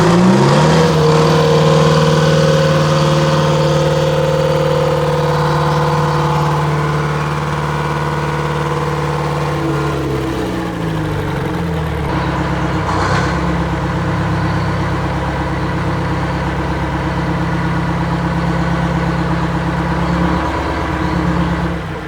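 A diesel engine idles while warming up, a loud, steady close rumble with a drone that dips partway through, then settles and runs on evenly with no talking.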